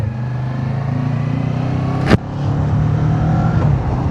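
A 650 motorcycle engine runs at a steady, fairly quiet idle-like hum from close by, broken once by a brief sharp knock or click before settling back into the even drone; no one speaks.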